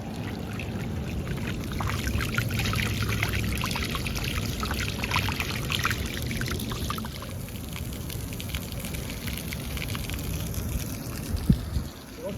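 Water runs steadily from a water main valve under test, a continuous pouring trickle and stream with a faint voice briefly audible.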